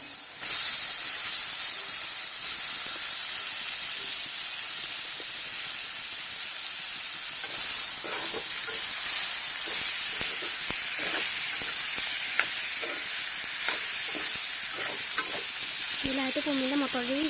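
Chopped tomato with turmeric frying in a hot pan and being stirred, a steady close sizzle and hiss with scraping stir strokes, and a brief voice near the end.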